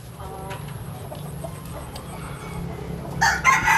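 A rooster kept with other roosters at a home in Tay Ninh, Vietnam, lets out a short, loud crow near the end, after a quiet stretch of low background hum.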